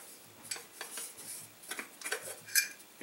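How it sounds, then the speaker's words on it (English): An anodized aluminum camping kettle is handled, giving a few light metallic clinks and taps spread irregularly over a few seconds, quiet and close with no talking. "It's an anodized aluminum kettle."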